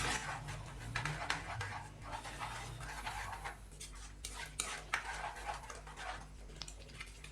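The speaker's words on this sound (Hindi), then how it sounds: "अच्छे से मिक्स करेंगे" Cumin and dried coriander powder are stirred into a pan for Punjabi chicken curry, giving close, irregular scraping and scratching strokes at a moderate level with a low background hum. Nobody speaks over the stirring.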